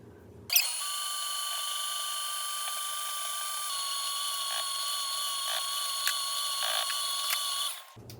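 Electric mixer beats butter into French buttercream, a steady high whine starting abruptly and holding for about seven seconds with slight pitch shifts, close and alone, then cutting off.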